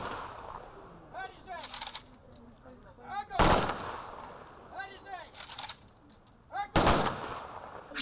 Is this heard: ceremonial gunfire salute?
yes